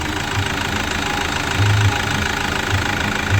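A 2008 Chevrolet Captiva diesel engine idles steadily right after an oil change, a close, continuous low rumble with a faint knocking texture and no talk.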